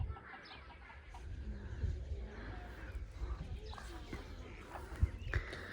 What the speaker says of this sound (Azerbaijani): Toyuqlara baxın.